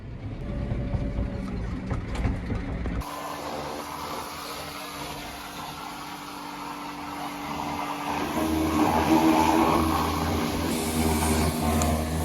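Kärcher pressure washer spraying down a new Claas tractor on a farm: a steady hissing spray with a pump hum, beginning abruptly after a few seconds of rumbling noise and growing louder toward the end.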